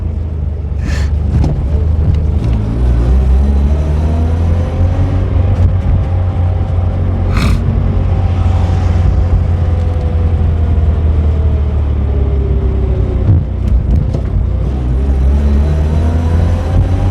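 A 1983 Mazda RX-7, back on the road after two years of not running, drives along with a loud, steady engine drone whose pitch rises and falls as it accelerates and shifts, plus a few brief sharp clicks.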